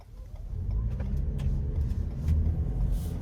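A car pulls away from a start with a low engine rumble that swells and holds, fairly quiet and close, with a few faint clicks and no talking.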